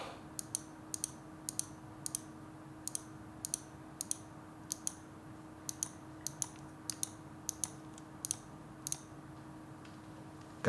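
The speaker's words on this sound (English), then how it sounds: "Watch the click." Sharp, light button clicks from a Finalmouse gaming mouse, a G-Wolves-based wireless model, pressed in irregular quick pairs and singles across a steady low hum, close and distinct.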